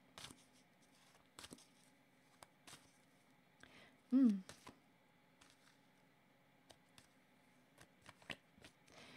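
Oracle cards being shuffled and handled at close range, with soft intermittent flicks and slaps spread across the stretch, and a brief voice sounding partway through.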